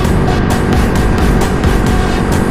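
A Honda Dream Supercup motorcycle fitted with a Dream CDI box revs hard and steadily near the listener, its engine note held loud and continuous with small pulsing surges throughout.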